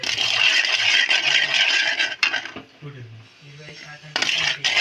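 A spoon stirring homemade egg masala in a metal pan, with close scraping and clinking against the pan, loud at first, then quieter with soft rattles, before scraping resumes at the end.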